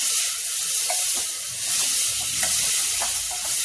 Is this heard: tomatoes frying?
yes